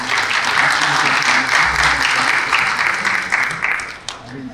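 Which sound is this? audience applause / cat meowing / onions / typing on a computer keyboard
audience applause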